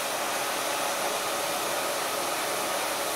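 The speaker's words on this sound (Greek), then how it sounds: "Ο αέρας από το πιστολάκι κοιτάζει τη ρίζα και προς τα πάνω" A handheld hair dryer blows air at the roots of the hair while it is straightened, a loud, steady, close whoosh of air that runs without a break and with no voices.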